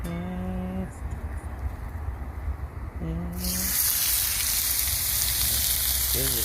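Chicken sizzles on a Blackstone hibachi griddle, a steady loud frying hiss throughout that brightens and intensifies partway through, with brief tonal beeps or squeaks layered over it.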